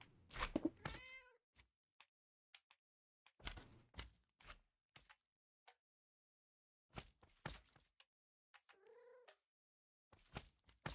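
A cat meows in short, scattered calls, one near the start and another around nine seconds. Soft thumps and faint shuffling fill the quiet between them in a still room.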